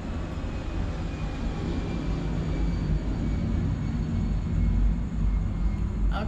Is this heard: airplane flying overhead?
yes